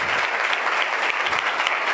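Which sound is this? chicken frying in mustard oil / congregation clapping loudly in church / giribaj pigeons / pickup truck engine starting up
congregation clapping loudly in church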